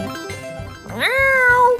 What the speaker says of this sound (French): En fait, c'est un tigre de Sumatra pour être exact.